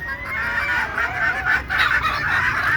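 Several desi (native) chickens cluck and murmur close by, a busy overlapping chatter of hens with no talking.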